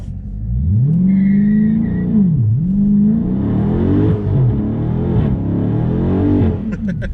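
A Dodge Charger Scat Pack muscle car engine revs up and down hard during a brake-torque burnout, its pitch rising, dipping and climbing again in a loud, sustained roar.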